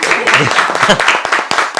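An audience claps after a ceremonial lamp lighting at a magic show, a dense burst of applause mixed with a voice speaking over it.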